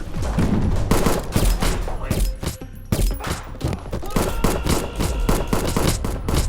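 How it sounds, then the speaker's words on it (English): Loud, rapid gunfire rattles close by in dense overlapping bursts, with barely a pause throughout. "An armed man bursts in and starts shooting, one by one."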